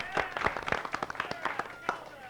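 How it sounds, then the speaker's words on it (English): A few people clap unevenly in a run of sharp, separate claps at a Challenge Bowl quiz event, heading into the second half, with talk mixed in. "Let's have some applause then"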